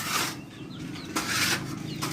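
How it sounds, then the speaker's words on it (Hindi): Pet pigeons, including Rampuri breeders, pecking at grain in their loft: soft scattered taps with rustling and brief wing flutters, close and fairly steady. "और ये कबूतर इस तरह दाना वगैरह खा रहे हैं।"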